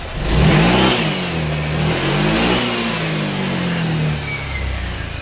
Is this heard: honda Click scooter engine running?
yes